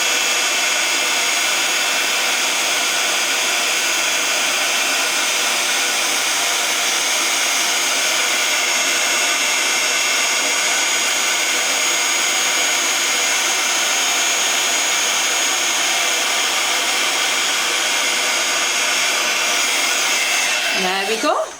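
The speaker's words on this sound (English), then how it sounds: "We're then going to take our heat tool and heat this up." A craft heat tool blows hot air steadily onto embossing powder on a card angel project, a loud, continuous whooshing hum lasting about twenty seconds before cutting off abruptly at the end.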